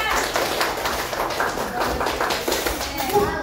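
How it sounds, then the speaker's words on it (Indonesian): A primary classroom of sixth graders claps for a presenting group, a busy, close patter of small hands that keeps going steadily with some talk mixed in. "Kita kasih tepuk tangannya untuk kelompok 3."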